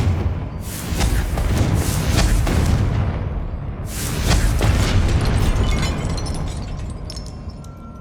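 Two heavy booming blasts from the Confringo fire spell in Hogwarts Legacy, one at the start and another about four seconds later, each leaving a loud rumbling tail.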